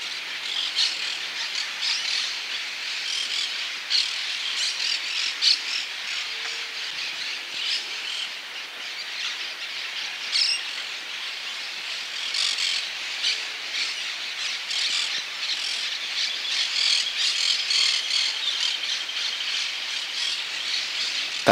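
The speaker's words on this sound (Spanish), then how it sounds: "Una de ellas es la golondrina parda." Brown-chested martins call near a nest on a rural road outside Esperanza, Santa Fe, Argentina, a steady run of high chattering, squawking notes with no talk.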